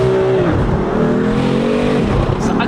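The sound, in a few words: BMW M4 six-cylinder engine revving to the rev limiter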